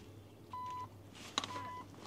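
Kick sensor under the trunk of a Porsche Macan Turbo gives a short electronic beep, then a second tone after a soft bump, faint against quiet outdoor background.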